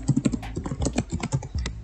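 Rapid clicking of computer keyboard keys while a bank name is entered into a payment form, an uneven burst of close, crisp keystrokes with no speech.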